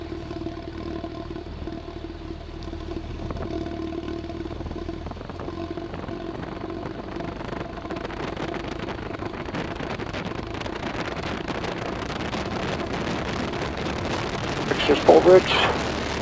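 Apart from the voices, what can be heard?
Cessna 172 engine at full throttle during takeoff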